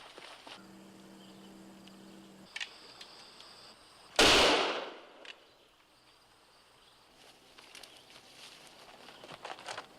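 A single loud gunshot cracks near mid-clip and fades in a short echoing tail, set against quiet outdoor ambience with faint insect and bird sounds, on a frontier-era drama soundtrack.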